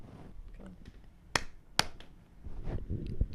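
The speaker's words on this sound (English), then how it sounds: "You need to clap." Two sharp, close hand claps about half a second apart marking the start of a recording, with soft talk and room noise around them.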